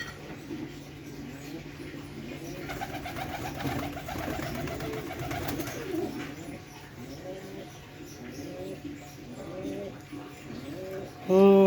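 Several pigeons coo in repeated soft, rolling phrases throughout, close by and moderately loud, ending with one sharper, louder coo.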